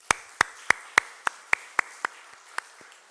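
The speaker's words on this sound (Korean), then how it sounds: "서로 박수 쳐주는 시간 갖도록 하겠습니다." A church congregation at Sunday worship claps for one another, a slow, sparse rhythm of about ten distinct claps, crisp and fairly near, with no talk.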